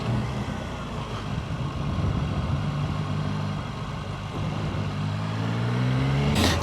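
A Triumph Tiger Sport 800 three-cylinder motorcycle engine revs steadily with a rich, layered drone, pitch climbing near the end as it accelerates.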